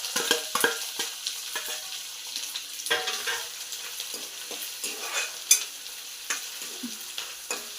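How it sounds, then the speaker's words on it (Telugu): Onions frying in oil in a pan, bursty crackles and pops in uneven clusters mixed with stirring scrapes, close and moderately loud. "అందులో 2 స్పూన్స్ ఆయిల్ పోసుకొని ఆనియన్స్ వేయాలి"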